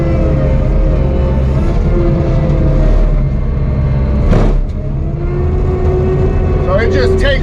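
Hydraulic disc mulcher on a machine, a loud steady engine and spinning drone with a rising whine, one brief burst of noise midway, steady throughout.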